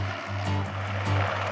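Steady rotor drone with a rhythmic pulsing beat from a tour helicopter flying over Dubai, continuous and fairly close.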